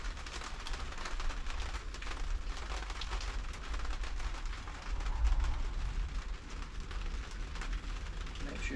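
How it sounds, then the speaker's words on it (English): Rain falls steadily outdoors beside a 2017-onwards MAN vehicle under repair, a constant fine patter with a low rumble underneath, slightly heavier for a moment midway. "Rain never stops, does it?"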